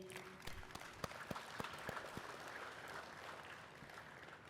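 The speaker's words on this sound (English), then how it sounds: "I want to give them a round of applause again" An audience at a Fulton County school athletics media day claps for sixteen schools, scattered sharp claps building into a faint, brief round of applause heard from a distance.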